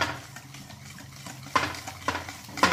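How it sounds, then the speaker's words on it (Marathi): Carrot cake batter with milk being stirred in a bowl, a soft scraping swirl with a few sharper utensil clicks against the side, close and fairly quiet with no talking. "असं मिक्स करून घेऊया."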